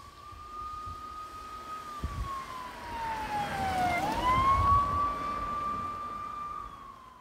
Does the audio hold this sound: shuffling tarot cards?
no